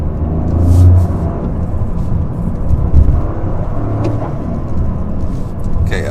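A Toyota GR Corolla rolls slowly around a parking lot, its engine a steady low rumble with mild revs and light road whir, heard from the cabin with some voice sounds mixed in.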